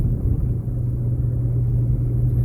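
A 2003 Pontiac Grand Am's engine running smoothly, a steady low rumble heard from inside the car with no voices.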